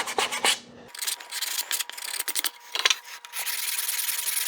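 Wooden cremation urn panel sanded by hand against the grain, a close, dry rasping rub in short irregular strokes followed by a steadier continuous scrape.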